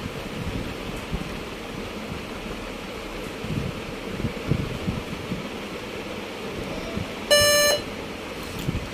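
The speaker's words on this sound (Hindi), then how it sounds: "ये बीप की आवाज़ सुनी है आपने" A Dell Vostro laptop gives one short, sharp electronic beep during its pre-boot diagnostic check, heard up close over a steady low fan-like hum.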